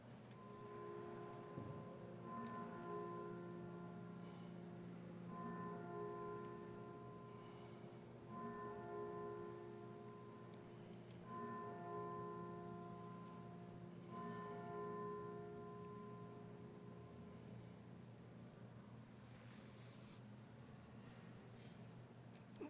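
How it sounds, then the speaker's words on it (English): Chimes rung in the Colorado Senate chamber during a moment of silence, several slow, faint, sustained tones struck one after another in a quiet, echoing room. "and the chimes will be rung."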